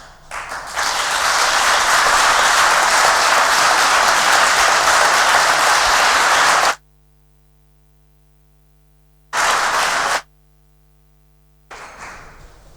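Strong, dense audience applause at a legal forum honouring victims of terrorism, loud and sustained for several seconds before cutting off, followed by two brief bursts of clapping after silences.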